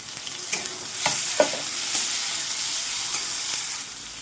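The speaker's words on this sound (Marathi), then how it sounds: "कांदाही मस्तपैकी फ्राय झालेला आहे आणि आता टोमॅटो टाकून घेणार" Finely chopped tomato stirred into onions frying in a pan, a continuous close sizzle with several scraping and knocking utensil strokes early on, then a steadier hiss, no voices.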